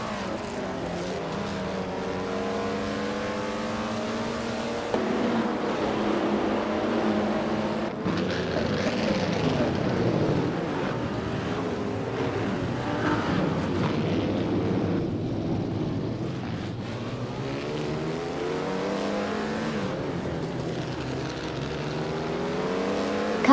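A 1938 Auto Union Type D race car with a supercharged V16 engine wails on track; its loud, continuous engine note climbs and falls repeatedly through gear changes, with no voices over it.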